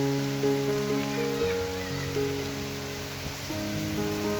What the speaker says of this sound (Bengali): আপনাদের সাথে কথা বলতে বলতে একেবারে ঝুম বৃষ্টি নামছে।